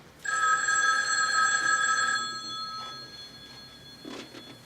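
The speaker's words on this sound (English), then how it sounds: "Answer the phone." An old-style telephone bell rings in a single loud, steady burst indoors, then stops and leaves a quiet room with a faint clatter.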